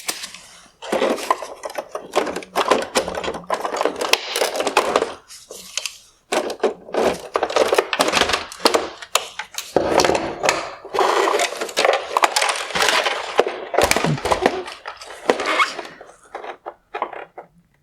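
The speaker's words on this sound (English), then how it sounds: "I'm going to pop off these wire connectors." Plastic wire connectors are pried and popped off a 2016-2018 Kia Sorento halogen headlight, a busy run of sharp clicks, scrapes and crackling plastic handling, loud and close, with brief pauses between bursts.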